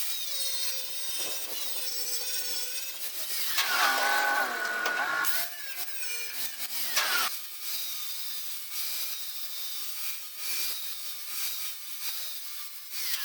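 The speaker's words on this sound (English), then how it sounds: "Now I'm just going to go over everything lightly with a flap disc." A flap disc on an angle grinder runs lightly over the metal of a dump trailer being repaired, a steady whining grind with rising and falling pitch and a few scraping swells, heard alone.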